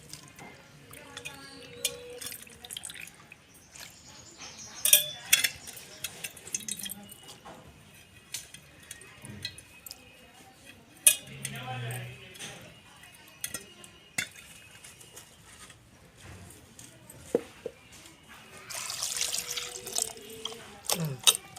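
Tap water runs and splashes while goat tripe is washed in a kitchen sink for a clay-pot tripe curry, with intermittent clinks of utensils and drips over a steady low wash of flow.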